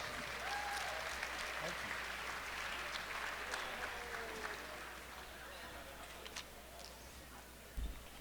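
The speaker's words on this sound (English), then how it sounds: "Give her a round of applause." An audience at a Beckley-Raleigh County Chamber of Commerce evening event gives a steady round of applause that holds for several seconds, with some voices faintly mixed in and the clapping fading slightly toward the end.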